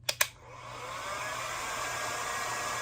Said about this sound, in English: And I'm going to use a heat gun.